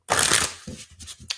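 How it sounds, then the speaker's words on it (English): Tarot cards shuffled close up: a quick burst of riffling flutter followed by a few softer slaps and shuffles of the deck. "Let me be shuffling."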